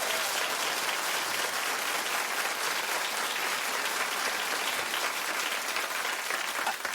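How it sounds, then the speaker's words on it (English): A television talk show studio audience claps steadily and densely from start to finish, with no voices above it. "Clap if the show should just be canceled."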